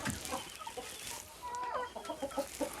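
A large ornamental chicken clucks nearby in a backyard coop, giving a series of short, fairly quiet clucks and throaty calls in an uneven rhythm.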